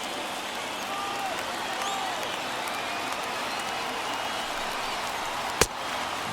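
Sustained roar of a big baseball crowd, more than 39,000 fans on their feet during a 2024 NL Wild Card game between Arizona and San Diego, a steady wash of cheering and clapping with one sharp bang near the end.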